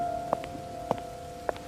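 Rain falls steadily as a soft, even hiss, with a few faint taps standing out over a low tonal hum.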